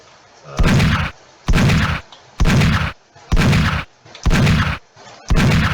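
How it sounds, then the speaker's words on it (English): Six loud, evenly spaced shotgun blasts from an Unreal Engine 5 Doom-style shooter, each a heavy booming burst lasting about half a second, separated by brief pauses. "there's the shotgun, for example. I really do like the shotgun"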